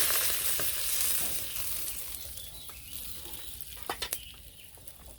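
Food fries in a pan in a Bangladeshi village kitchen, a soft, fairly quiet sizzle with a few sharp clinks and scrapes from stirring toward the end.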